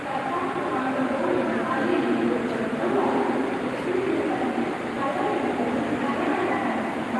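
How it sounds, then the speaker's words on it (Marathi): Train noise at a station, a steady broad rumble of rail cars with pigeons or other birds faintly audible, holding at an even loudness throughout with a voice talking over it. "छान ट्रेन आली"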